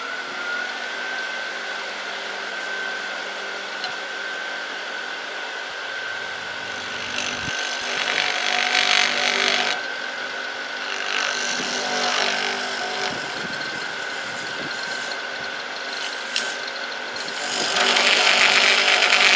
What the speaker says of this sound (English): all I'm going to do here is make a little dovetail